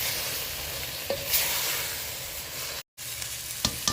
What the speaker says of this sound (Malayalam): 2 ടേബിൾ സ്പൂൺ കാശ്മീരി ചില്ലി പൗഡറും 3 ടേബിൾ സ്പൂൺ മല്ലിപ്പൊടിയും എടുത്തിട്ടുണ്ട്. ഇത് നല്ലതുപോലെ വഴറ്റാം.